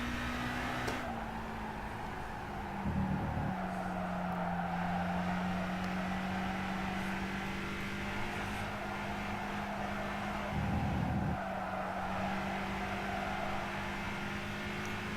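Race car engine in Gran Turismo 5 holds a steady drone while cornering under trail braking, with brief revving swells as the car works through the bend, continuous and fairly loud throughout.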